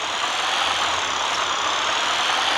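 A vehicle engine in the shooter game Free Fire, with the vehicle taking damage, drones as a steady, loud, unbroken roar with a low rumble running the whole time, and no talking.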